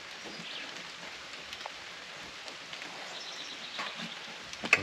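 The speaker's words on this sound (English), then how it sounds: "This rain's starting to pick up again." Steady light rain patters over a garden, a soft continuous hiss with faint scattered drops and occasional distant bird calls.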